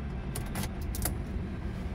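A flip key for a Fiat Strada Ultra is pushed into the ignition, giving a few brief metallic clicks and a light jangle, close up over a steady low hum inside the cab.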